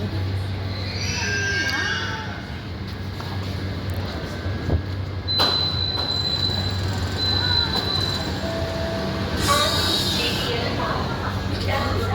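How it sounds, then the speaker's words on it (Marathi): A train pulls in at a Mumbai platform with rumbling wheels and high metallic squeals from the brakes, loud and close, with people talking nearby over the hum. "एवढ्या प्लॅटफॉर्म आली ट्रेन आली."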